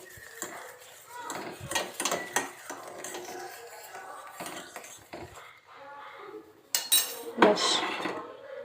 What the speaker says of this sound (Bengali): এবার আমি কফিটার সঙ্গে গুলিয়ে নেবো